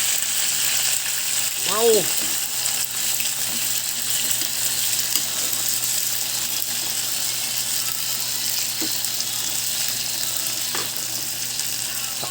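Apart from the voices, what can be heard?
shrimp frying and sizzling in a pan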